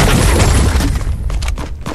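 Drum shotgun in Fortnite firing in a loud rapid burst of booming blasts, then a few scattered shots as the noise thins out.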